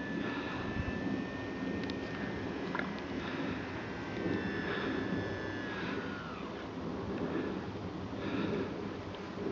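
A West Wings Orion E model aircraft flies over the North Yorkshire Moors, its engine giving a steady drone with shifting whine as it comes in to land, continuous and fairly loud throughout.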